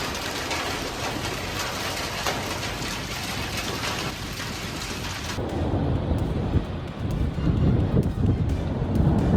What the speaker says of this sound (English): Coin-sized hail falls over Chicago during a thunderstorm, bouncing across streets and rooftops